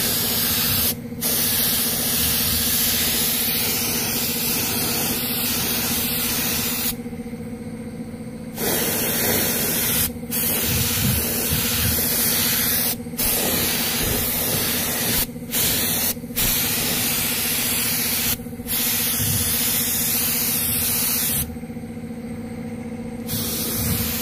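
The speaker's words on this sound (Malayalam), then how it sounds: "ഇപ്പോൾ നമ്മൾ ഫസ്റ്റ് കോട്ട് പെയിൻറ്റ് ചെയ്തിട്ടുണ്ട്." A spray gun lays a first coat of paint on a Hero Honda Splendor petrol tank, blasting a loud, continuous hiss in long bursts broken by short pauses, alone without talk.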